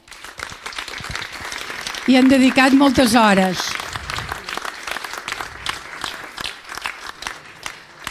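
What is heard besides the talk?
applause at mural inauguration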